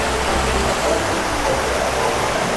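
Steady rushing water from a theme park ride at Phantasialand, a broad continuous wash with no breaks, fairly close and loud throughout.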